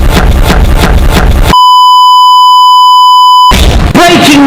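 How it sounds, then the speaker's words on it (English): A loud, steady electronic alarm tone, offered as the German EAS emergency alert, holds one pure pitch for about two seconds between bursts of harsh distorted noise. "The Germany EAS alarm is fake."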